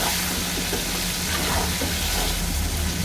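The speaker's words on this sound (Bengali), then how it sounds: "এবার দিচ্ছি টমেটো কুচি কুচি আলুটা ভালোই লাল হয়ে গেছে" Chopped tomatoes go into potatoes frying in a pan, making a loud, dense sizzle and hiss that holds steady and close for a few seconds.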